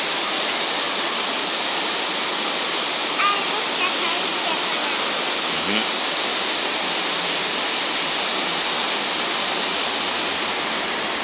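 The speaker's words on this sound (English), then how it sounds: "Water come down all the way down there." A waterfall pours down in a steady, unbroken broadband roar that holds at an even loudness throughout, with faint voices barely audible beneath the rushing water.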